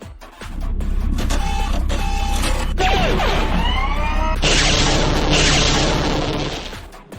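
Missiles firing in a science-fiction space dogfight audio drama, a dense, sustained barrage of whooshing launches and crashing impacts with rising and falling tones, loud and continuous for several seconds.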